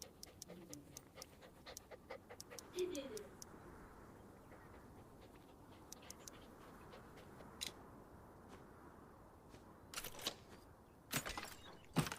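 A puppy pants softly in the farming video game Farm Together, a faint quick rhythmic breathing amid light game ticks and clicks, with occasional sharp interface taps.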